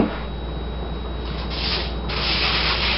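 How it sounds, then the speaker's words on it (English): Aluminum foil crinkling and rustling as a pan is lined for microwave fudge, a continuous close scratchy rustle that grows slightly louder toward the end. "you line the pan with aluminum foil."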